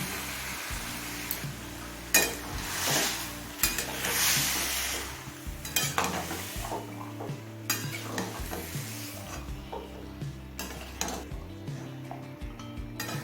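Chicken kosha cooks in a pan with a little water, giving a quiet sizzle under repeated scraping and clinking of a spoon stirring against the metal, close and intermittent.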